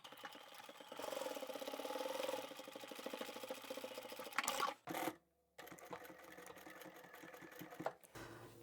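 A sewing machine runs a triple stitch on a fabric tissue holder, its close mechanical whirr in steady bursts with short stops and a clunk between runs, the motor restarting after a pause.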